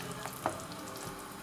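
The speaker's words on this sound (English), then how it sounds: "You can see the way they are boiling." Cow bones boil in a pot of broth with a soft, steady bubbling and simmering. A few small pops rise out of the low, constant hiss, close by and with no voices.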